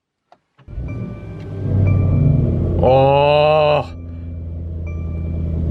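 A Mercedes-AMG E63 S cold-starts close by: a starter catch, a rising idle, then one sharp rev lasting about a second before it settles into a steady, loud high idle. A person briefly exclaims.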